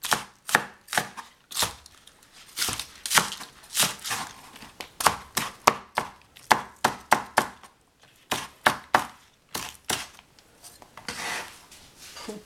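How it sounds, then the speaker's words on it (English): A knife chops an onion on a cutting board in quick, crisp taps. They come in bursts of strokes separated by short pauses, close and clear. "cut a little onion."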